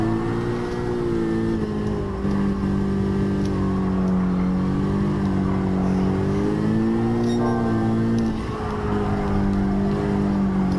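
Honda Civic Type R FK8 engine revs hard under acceleration, a loud continuous drone with rising and dipping pitch as the wheels spin, steady and close throughout without talk.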